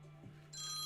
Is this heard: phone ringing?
yes